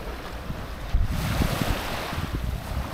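Ocean waves wash onto the shore at Mihama Cape in Heda, West Izu, a loud, continuous surf roar with gusts of wind buffeting the microphone, no voices.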